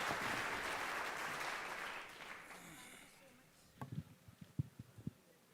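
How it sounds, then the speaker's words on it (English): Audience applause at the inaugural ceremony of a 2020 sports meet, a loud, dense clapping that gradually fades over about three seconds, followed by a few scattered louder knocks and thumps. "Can we have a huge round of applause once again?"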